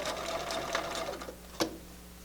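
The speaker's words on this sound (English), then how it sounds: "I'm always stitching with the turned under piece of fabric on top. And I sew right along the crease there." A sewing machine stitches through quilt fabric along a folded crease, running with a fast, steady mechanical whir that ends in a sharp clack before a quieter tail, nearby and without talk.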